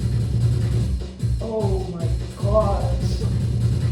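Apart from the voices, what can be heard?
Roland MC-303 drum machine playing a beat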